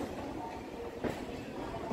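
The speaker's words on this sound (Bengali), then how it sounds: "হাওড়া থেকে ব্যান্ডেল জংশন পর্যন্ত 38 কিলোমিটার যাত্রাপথের মাঝে 15টা স্টেশনে এই ট্রেনটা দাঁড়াবে।" A Howrah-Bandel local commuter train runs along the rails, a dense continuous rumble and rattle heard from close by, loud and unbroken for the whole moment.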